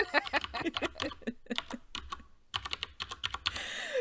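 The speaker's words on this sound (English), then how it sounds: "You're just getting even for all the clacky keyboard sounds." Rapid clacky keyboard typing, a dense run of sharp keystrokes with a brief pause midway, close and fairly loud.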